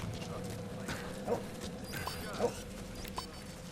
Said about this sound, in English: you'll notice that DD is barking to indicate he's found more targets